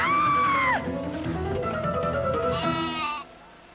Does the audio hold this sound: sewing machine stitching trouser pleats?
no